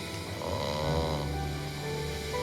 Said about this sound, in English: That's snoring again.